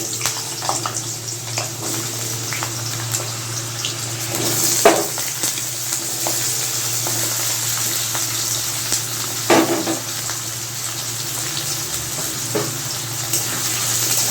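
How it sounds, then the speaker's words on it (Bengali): Potatoes frying in hot refined oil in a wok for a Bengali bitter gourd curry, a steady close sizzle running throughout with occasional louder crackles and stirring bursts, and no voices. "তেলটা গরম হয়ে গেছে, আলুটা ছেড়ে দেবো"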